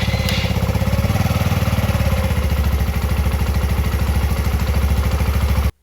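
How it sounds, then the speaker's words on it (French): A motorcycle being checked for a no-start battery problem runs at a steady idle close by, its low, even chugging continuing without a break until it cuts off abruptly at the end. "On va démarrer la moto"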